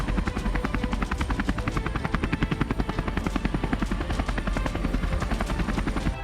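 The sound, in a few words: light attack helicopter flying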